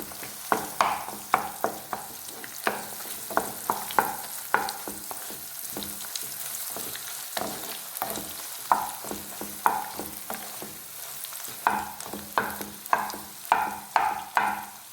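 Egg and carrot fry in a pan, a soft continuous sizzle broken by frequent rhythmic scraping strokes of a spatula tossing the mix, close and fairly quiet, with no talking.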